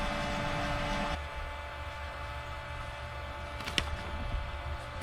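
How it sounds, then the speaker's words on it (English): A steady mechanical drone of a pump on a Generac generator running close by, constant and fairly loud, its tone shifting slightly after a second, with a faint clank near the end. "Sorry for the noise, the pump just cranked up."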